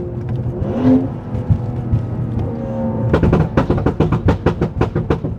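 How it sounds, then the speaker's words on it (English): A BMW engine whirs and revs, then on a 3-to-2 downshift breaks into a loud, rapid string of exhaust pops and crackles on deceleration, close by. "So those burbles are really loud."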